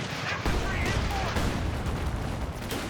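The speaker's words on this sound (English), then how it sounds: "Big shot from the Sherman." Sherman tank firing a big shot in Company of Heroes 2, a loud booming blast amid dense continuous battle noise, with a caster talking over it.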